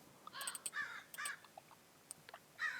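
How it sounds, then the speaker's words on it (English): Crows caw in short, harsh bursts, several calls clustered together and then a final one, fairly close and clear over a quiet background with no talking. "I love the crows, but like they're making way too much noise"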